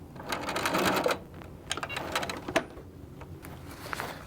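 A sewing machine top stitching a fabric zipper pouch, running in short, rapid bursts of needle clatter separated by brief pauses, close and moderately loud.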